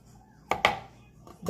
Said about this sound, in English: So I'm going to keep chopping this